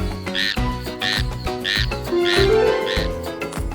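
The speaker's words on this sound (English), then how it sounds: "their loud croaks are actually complex songs used to attract mates" Frog croaks repeat in a steady rhythm, about one every half second, loud and close, each a throaty pulsing call.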